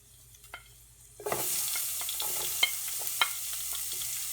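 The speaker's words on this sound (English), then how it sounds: "and then I'll saute it for a while" Chopped garlic, ginger, green chillies and capsicum hit hot oil for Chicken Manchurian, bursting into a loud, steady sizzle after quiet handling clicks, with a few sharp stirring knocks, close by and without talking.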